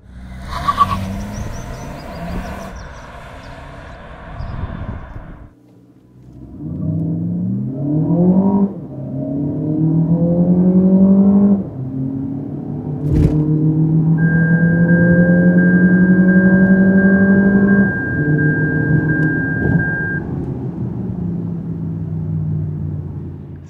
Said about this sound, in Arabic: خلونا افرجيكم تجربة تسارع من صفر ل 100